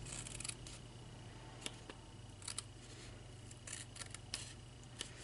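Scissors snip quietly at excess material on the back of a shabby chic frame. Several short, faint cuts occur over a low, steady room hum.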